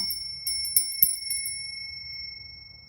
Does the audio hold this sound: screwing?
no